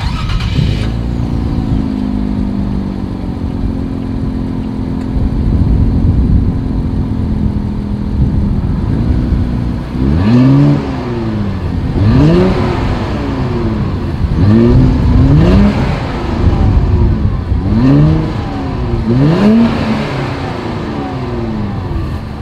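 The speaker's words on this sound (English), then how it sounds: "here is that exhaust clip." 2020 Infiniti Q60 Red Sport 400 exhaust, an idle rumble followed by a series of sharp, loud throttle blips that rise and fall repeatedly, heard up close with no talking.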